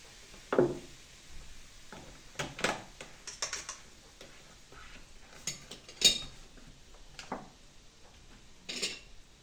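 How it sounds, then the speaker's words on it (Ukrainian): Liquid ingredients for a grated pie batter stirred in a bowl, giving irregular clinks and scrapes of utensil against the dish, close and moderately loud, with pauses between strokes. "перемішую спочатку всі наші рідкі інгредієнти"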